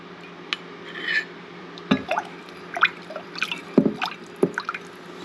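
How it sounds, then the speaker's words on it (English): Rice roll batter being stirred in a bowl with added salt and oil, soft wet squishes, drips and occasional utensil clinks against the bowl in an irregular rhythm, close and moderately quiet, no talk. "Just mix it all up like this."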